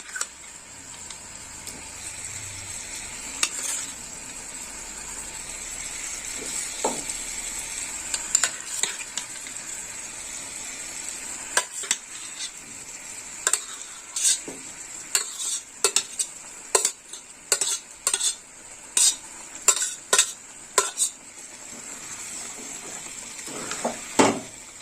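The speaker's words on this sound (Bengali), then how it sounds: "এবার আমি দিয়ে দেবো ভেজে রাখা বাঁধাকপি আর আলু।" Fried cabbage and potatoes tumble into a pan for a yogurt cabbage dish, hissing steadily while a spoon scrapes and clinks against the metal in irregular bursts that sharpen toward the end.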